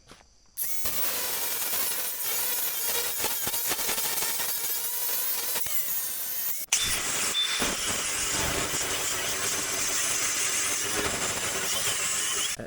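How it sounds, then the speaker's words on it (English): A flap wheel grinding the metal frame of an old backhoe gives a loud, continuous, hissing whine that starts abruptly, cuts out briefly, then resumes just as strongly. "Just go use a flap wheel."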